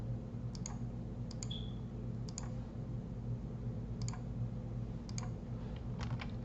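Computer mouse clicks while drawing a mechanical part sketch in SolidWorks. About a dozen sharp, close clicks come singly and in quick pairs at irregular intervals, quiet over a low steady background hum.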